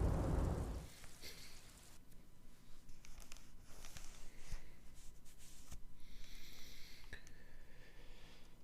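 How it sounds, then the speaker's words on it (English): Rain falls steadily in the video game Disco Elysium, a quiet, even patter with a few soft thumps and brief brighter bursts. "Still being rained on."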